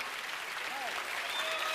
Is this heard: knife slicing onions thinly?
no